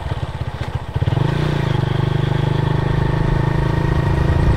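A Honda Tiger motorcycle engine, recently rebuilt and being run in, starting with uneven pops and then settling into a steady, close, rhythmic idle throb.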